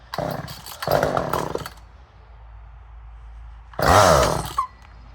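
A Poulan 1800 chainsaw engine fires and runs in two short bursts, goes quiet, then revs again in a loud, rough burst nearby, sputtering unevenly as it struggles to keep running.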